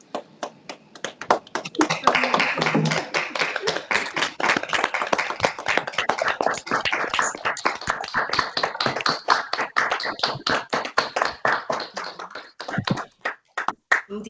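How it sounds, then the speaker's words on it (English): Applause for an inspiring conversation at a Rwandan youth event, heard as a long run of dense hand claps that builds, holds steadily, then thins to scattered claps near the end, with faint voices underneath. "a well-deserved applause for this inspiring conversation"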